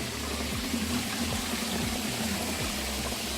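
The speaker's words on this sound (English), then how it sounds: "Look at that majestic waterfall." A small waterfall pours over rocks on a low-flow day along a bushland loop trail, giving a steady, close, continuous rushing wash with no voices.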